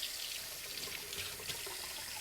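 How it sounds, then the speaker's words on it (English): Tap water runs from a kitchen faucet as a steady, moderately loud broadband rush with no talking over it. "And again, I'm using water from my tap because our water is good."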